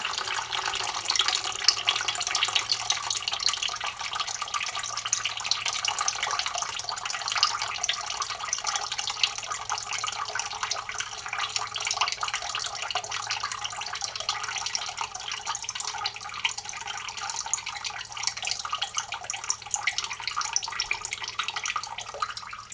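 Water for homemade lye soap streams steadily into a mixing bowl on a kitchen scale, a continuous close splashing pour lasting over twenty seconds without a break.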